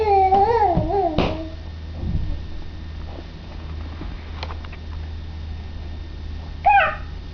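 A house cat gives a couple of short, close meows at the start and again near the end, with a quiet indoor room in between and a little faint background movement.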